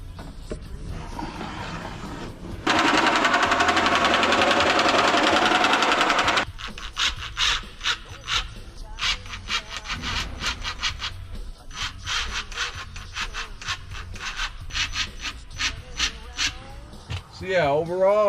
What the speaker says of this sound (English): Pretty sure all I gotta do is fit it up, mark it off, and cut.